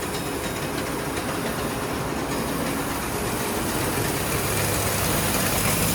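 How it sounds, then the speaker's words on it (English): A farm grain auger carrying cleaned barley runs continuously, making a dense, loud mechanical rumble and rattle at close range with no pauses. "See the auger there taking it up."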